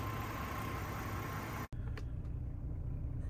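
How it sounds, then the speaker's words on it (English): A Chevy Trailblazer LTZ engine idles smoothly and evenly with no ticking, a steady low hum close by that drops briefly for an instant partway through and then carries on. "I've been sitting here with it idling"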